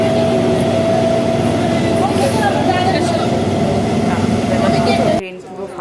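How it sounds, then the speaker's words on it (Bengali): Inside a moving, nearly empty train at night, a loud steady rumble with a constant mechanical hum runs throughout, then cuts off sharply near the end. "ফাঁকা ট্রেন, আরাম করে বসে যাচ্ছি বাড়ি।"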